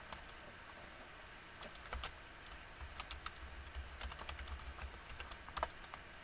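Quick bursts of clicking keystrokes on a computer keyboard, close and fairly quiet, coming in uneven clusters with short pauses between them.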